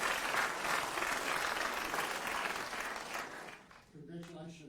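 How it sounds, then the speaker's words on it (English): Audience applause at an ethical investment awards ceremony, dense and loud for about three seconds, then fading as a voice begins speaking. "So a round of applause for Deleted from Stuff Circuit."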